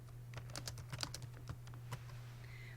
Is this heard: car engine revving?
no